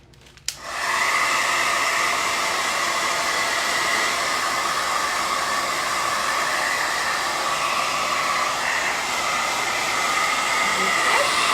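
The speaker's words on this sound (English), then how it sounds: "I just use a regular little blow dryer" Small handheld blow dryer switched on to dry paint, starting with a click and then a steady, loud, close whooshing hiss of air that holds constant to the end.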